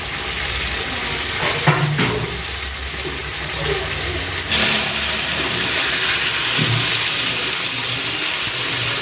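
Paneer cubes fry in hot oil in a pan with a loud, continuous sizzle, punctuated by a few stirring scrapes and clinks.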